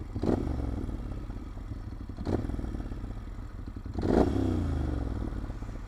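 A motorcycle engine idles with a low, pulsing throb, broken by three brief surges or clattery bursts spaced a couple of seconds apart.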